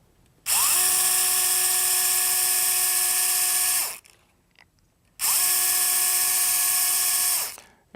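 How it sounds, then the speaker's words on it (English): Surgical power drill running a pin through bone in two sustained high-pitched whining bursts, each lasting about three seconds and separated by a short pause, loud and close. "At this point, we're going to drill our pin."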